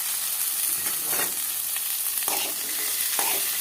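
Yellow pumpkin pieces sautéing in a pan for a Tamil poriyal, a soft steady sizzle with a few scraping stirs at intervals, quiet and close with no voices.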